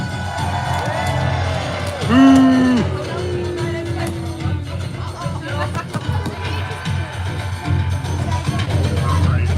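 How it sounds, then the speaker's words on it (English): Crowd of spectators at a Wars of the Roses battle reenactment at Warwick Castle cheers for the Lancastrian Queen: a broad, sustained roar of many voices with one loud shout rising early, then continued mixed cheering and chatter. "Lancaster, a cheer for our beautiful Queen!"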